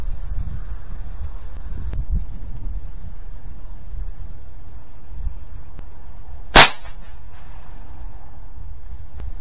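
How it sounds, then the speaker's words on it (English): A single .22 LR Stinger copper-plated hollow point round fires into pine boards outdoors: one sharp, loud crack stands alone over steady wind noise and faint background hum. "Next, shooting the Stinger, and it's a also a copper plated hollow point."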